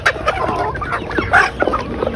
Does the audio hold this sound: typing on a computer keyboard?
no